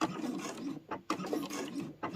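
Sewing machine running a short back stitch at the start of a seam while making a rotary cutter pouch from layer cake fabric, heard as quick mechanical rattling bursts that stop and restart in a stuttering rhythm.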